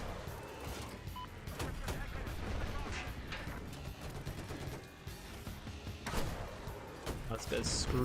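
Battlefield 2042 gunfire and explosive booms rattle in irregular bursts amid chaotic battle noise, with a person talking over much of it.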